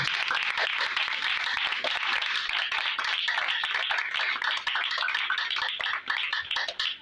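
A church congregation applauds loudly, a dense, sustained wash of many hands clapping that fills the space evenly and begins to thin and break up toward the end.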